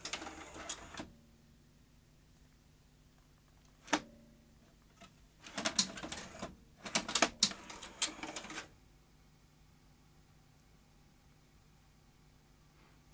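Mechanical clicks and whirring bursts from a Betacam SP UVW1400P tape recorder's spool mechanism with a spool-size fault, a sharp click near the start, then clustered rattling bursts midway, fairly quiet with silence between.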